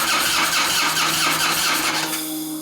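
The twin cam engine of a 2004 Harley-Davidson FLHT touring motorcycle cranks and fires up loud and close, with a rapid rhythmic chugging that settles toward idle near the end.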